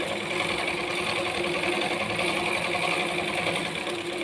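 A sewing machine runs steadily while stitching normally, a continuous even mechanical whir with a fast rhythmic needle chatter, close and alone with no talk.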